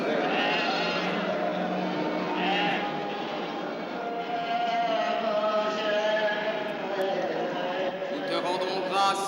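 Sheep bleat repeatedly amid a flock of sheep and lambs, mid-distance and fairly loud, with overlapping calls continuing throughout under a general murmur of people.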